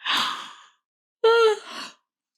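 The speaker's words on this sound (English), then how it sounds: "Big yawn." A person yawns close by: a breathy inhale, a brief pause, then a drawn-out voiced exhale that trails off into breath.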